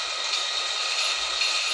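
A grain train running on rails in the game TrainWorks 2, a steady bright rolling hum with faint rhythmic clicks, continuous and even throughout.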